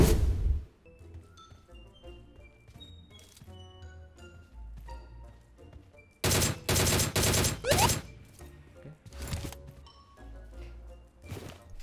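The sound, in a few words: gunfire from the video game PUBG Mobile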